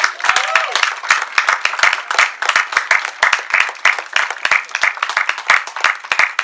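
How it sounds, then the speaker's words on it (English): Congregation applause during a Sunday worship service, a lively, rhythmic round of many hands clapping with distinct sharp claps throughout and a faint crowd murmur underneath. "Let's give them a round of applause."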